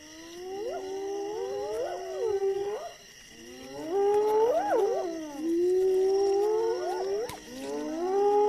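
Spotted hyenas give a wailing, howling chorus of rising and falling whoops, several animals calling at once and overlapping, loud and fairly near, with a short pause before the calls swell again.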